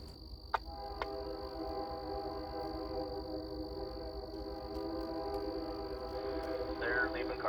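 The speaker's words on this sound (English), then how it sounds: "I would catch BNSF Q-ATGLAC rolling down Carbon Hill with H2-9 BNSF 4664 leading the charge" A BNSF freight train led by Dash 9 locomotive 4664 rolls down Carbon Hill in Alabama, a steady distant rumble with two short horn-like blasts early and insects buzzing throughout, with faint talk.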